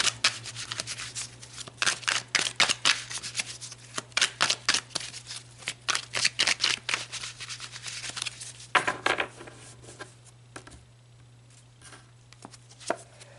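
Tarot cards being shuffled by hand, a long run of quick, close riffling and slapping bursts that thins out into scattered soft card taps near the end, no voices.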